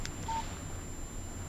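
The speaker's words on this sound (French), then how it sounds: "Un SMS de Barry." A text message alert on a phone in the Alan Wake video game, a single short electronic beep after a faint click, alone over low background hum.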